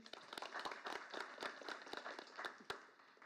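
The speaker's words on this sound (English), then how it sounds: "One more round of applause for Emma, please." At a school board trustees meeting, a small gathering claps for Emma, with individual hand claps distinct and uneven in rhythm, fairly close and quiet, with no speech over them.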